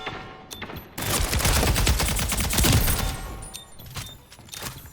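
Rapid bursts of assault rifle fire in the arena shooter Splitgate 2, loud and close, a dense rattling volley lasting a few seconds with scattered shots before and after.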